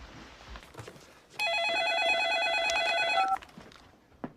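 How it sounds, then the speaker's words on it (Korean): A telephone rings with one loud, steady electronic trill lasting about two seconds, preceded and followed by quiet room noise. "그때 또다시 걸려온 전화"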